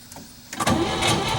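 A 1962 Chevy Bel-Air, abandoned in mud for 40 years, has its engine cranked: a quiet lull, then a sudden loud, steady churning of the starter and engine that holds to the end.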